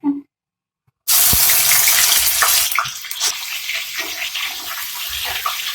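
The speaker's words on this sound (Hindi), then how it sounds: "तो अब इसके अंदर मैं चिकन डालूँगी।" Chicken hits a hot pot with garam masala in a home kitchen, setting off a sudden loud sizzling hiss after a brief silence that continues steadily and then eases slightly.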